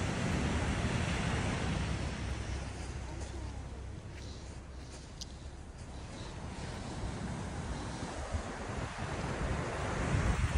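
Sea waves wash continuously along a chilly seashore near Odawara, Japan, with steady wind rumbling across the microphone; a soft roar fills the whole stretch with no distinct breaks.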